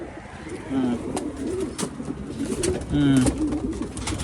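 Racing pigeons coo in short soft bursts close by, with other bird calls scattered around them and a person talking over the birds.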